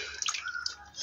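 Water splashes and drips in a brief burst as goat intestines are rinsed in a basin, close and fairly clear.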